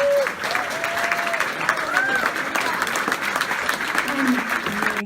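A community awards audience applauds mental health advocacy award recipient Rita Thrasher with warm, sustained clapping from a crowd, steady and fairly loud, with some voices and cheering rising over the applause.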